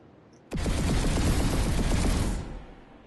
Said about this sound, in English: So here's the default heavy assault rifle for the Vanu.